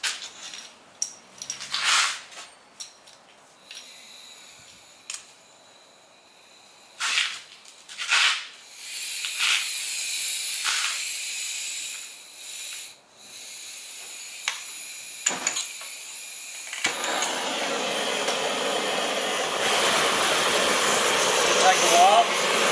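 A gas torch roars as it heats a seized part on a Keen lathe in a workshop, first scattered clicks and metallic knocks, then a steady broadband hiss swelling to a loud sustained rush near the end.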